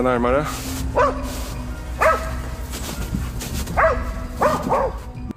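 Several sharp barks and yips from two dogs harassing deer, in irregular bursts, fairly close, over a steady low hum with a voice talking faintly in the background.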